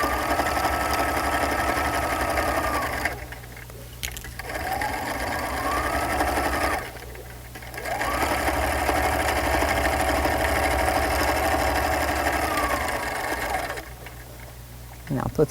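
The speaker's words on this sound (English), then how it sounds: "I'm going to sew as close to that hem as possible" Domestic sewing machine stitching close to the hem of a garment, a steady mechanical whir running in long bursts with brief pauses between them, close and fairly loud.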